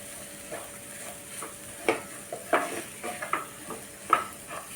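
Raw mango chutney with salt is stirred and mixed in a bowl, giving soft wet squelching and a few sharper utensil clicks at irregular intervals, close and fairly quiet with no talking.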